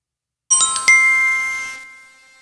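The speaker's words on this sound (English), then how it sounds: "That's a group chat notification." iPhone 15 group chat notification: a bright chiming ding-dong alert with two quick tonal strikes ringing out and fading over about a second and a half, clean and alone.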